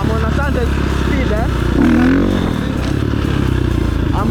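A KTM 450 motorcycle engine drones steadily throughout a wheelie ride with the throttle worked and no clutch, its note rising briefly midway, loud and close amid wind and riding noise.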